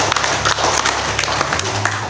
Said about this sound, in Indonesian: Coba tepuk tangan dulu buat Bapak.